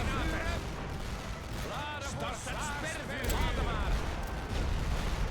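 Artillery fire in The Great War: Western Front, a WWI strategy game, during an assault on the Belgian front: a continuous loud rumble of distant barrages and blasts, with a voice talking over it throughout.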